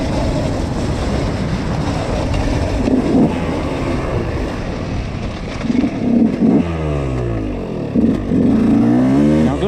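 A dirt bike with its piston recently changed from a two-ring to a single-ring design rides a trail, the engine droning steadily close to the microphone with wind buffeting and a few brief revs near the end.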